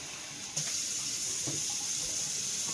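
Hot water pours steadily from a kitchen tap into a sink, a continuous hissing splash that jumps louder after a moment as the flow increases, with no voices over it.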